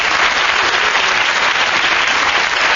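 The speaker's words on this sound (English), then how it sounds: "The audience were clapping" A radio panel game's studio audience clapping, a loud, even, sustained burst of applause filling the whole stretch with no voices on top.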